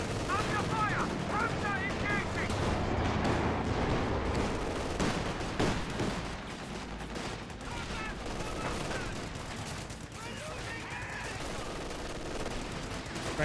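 Artillery and gunfire from the video game Company of Heroes 2, a dense, continuous barrage of shots and booming blasts that stays loud throughout, with a commentator talking over the battle noise.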